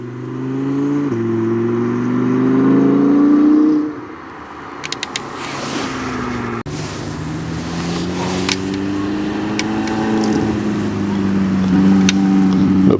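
Supercars accelerate along the Curborough sprint course, their engines droning and revving with rising and falling pitch, loud and steady throughout, with a brief dip partway through.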